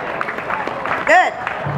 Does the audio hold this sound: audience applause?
yes